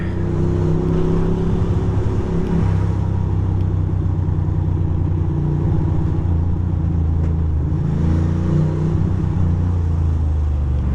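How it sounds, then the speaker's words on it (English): Busy road traffic surrounds a Ducati motorcycle ride, a loud, steady engine drone with repeated revving swells that carries on without a break and without talk. "Traffic galore."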